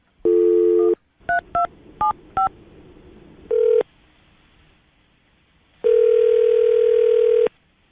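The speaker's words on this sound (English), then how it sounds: "I'm going to dial her phone number right now" A short dial tone, then four quick touch-tone beeps, another brief tone, and a long steady tone, all loud and close against faint background hiss.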